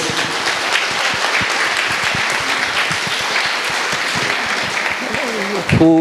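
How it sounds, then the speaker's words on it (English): Conference audience at a science and technology event applauds the panelists, a loud, steady round of clapping from a large crowd, with a brief voice and microphone noise near the end. "give a nice round of applause for all the panelists"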